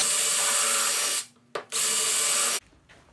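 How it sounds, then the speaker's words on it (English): A power drill with a small bit whines loudly through wood in two bursts, with a brief gap between them, then stops. "I'm just taking a smaller drill bit and drilling through the rest of the way."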